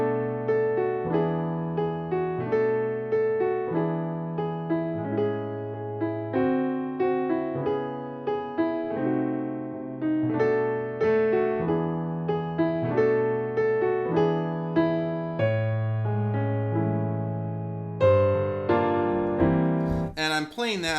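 Solo jazz piano plays the B section of a standard, with arpeggiated chords and melodic runs in a steady, moderately loud flow and no talking, ending in a brief higher flourish.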